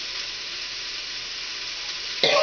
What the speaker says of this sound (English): these vegetables saute for about 5 minutes